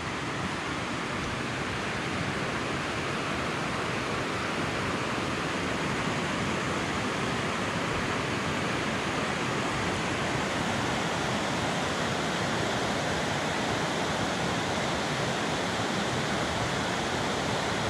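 Water rushes below the Deer Creek dam at Eden Mill, a loud, unbroken broadband roar of tumbling water that stays steady throughout.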